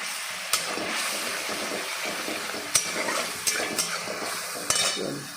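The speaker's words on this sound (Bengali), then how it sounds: "একটু কষিয়ে নেব" Vegetables for shukto, sprinkled with a little turmeric, sauté in a hot pan with a continuous hiss, broken by several distinct clinks and scrapes of a spoon stirring against the metal.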